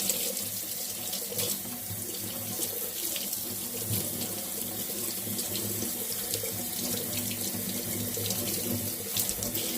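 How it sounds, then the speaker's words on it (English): Water runs steadily from a kitchen tap into the sink as home-grown broccoli heads are rinsed and separated, a continuous close splashing hiss with small shifts as the florets move under the stream, no voices. "So right now this is just a quick rinse that I'm giving the broccoli and separating."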